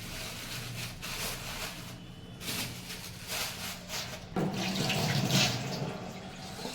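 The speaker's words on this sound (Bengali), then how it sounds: "চিকেন নিয়ে চলে এসেছি, এখন চিকেনটা ধোবার পালা।" A kitchen tap runs steadily into a sink while raw chicken breast and leg pieces are rinsed under it. The close splashing and gurgling rise and grow heavier partway through.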